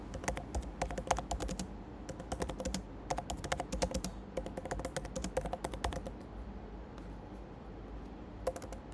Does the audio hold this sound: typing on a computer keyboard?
yes